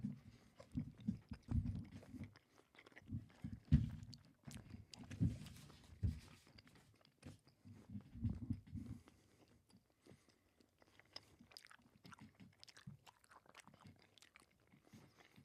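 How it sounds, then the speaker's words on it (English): Close, moist chewing of a capsaicin challenge gummy, with soft repeated munching in bursts that fade to quieter mouth sounds toward the end. "Definitely a lot of chewing."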